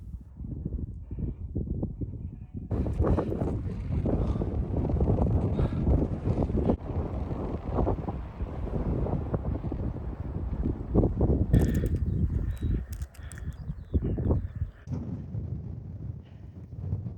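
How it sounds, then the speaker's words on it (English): Strong wind gusts across a mountain ridge near Scafell Pike in the UK, buffeting the microphone with a loud, continuous, uneven roar that rises and falls throughout. "the promised wind has come now"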